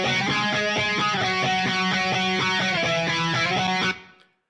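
Full-band or guitar music through an analog bucket-brigade flanger pedal on its TCA chip setting, a subtle sweeping shimmer over dense sustained notes, loud and close before cutting off abruptly near the end with a short fade.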